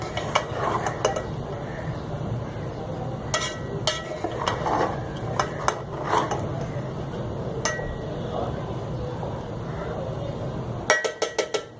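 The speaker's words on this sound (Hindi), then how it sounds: "हम खोल ले हैं और थोड़ा सा मिक्स करते हैं।" Masoor keema pulao of lentils, minced meat and rice being stirred in a pot, with repeated soft scrapes and light metallic clinks of a spoon against the pot's sides, ending in a few quick sharper clatters.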